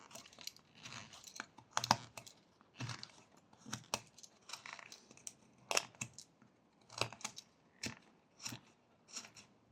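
Knife whittling V-cuts into wood while carving a tree frog, a series of faint, close, irregular scraping and crisp slicing strokes, with quiet pauses between cuts.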